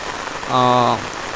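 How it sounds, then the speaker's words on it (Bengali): Rain falls on a village in Bangladesh as a steady, even hiss, briefly overlaid by a short tonal call or horn-like note in the middle. "এই যে দেখেন বৃষ্টি চারদিকে বৃষ্টি"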